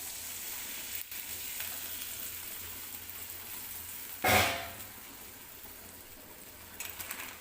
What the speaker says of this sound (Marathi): याच्यामध्ये 1 ग्लास पाणी ओतते.